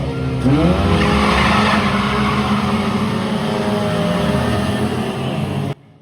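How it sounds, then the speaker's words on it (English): Stock cars at Cowdenbeath Racewall roar off the line at the start of a heat, engines loud and close with squealing, spinning tyres on old rubber, the din running steadily for several seconds before cutting off abruptly. "there's a lot of wheel spin off the line for my dad"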